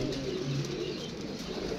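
Pigeons kept in a loft coo softly, low throaty calls repeating over a constant background hum, close and fairly quiet, with no talk.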